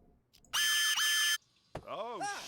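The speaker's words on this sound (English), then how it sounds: "Fucking smoke detector in the bathroom." Bathroom smoke detector going off in a loud, piercing electronic blast lasting under a second with a brief dip in the middle, followed by an excited voice reacting.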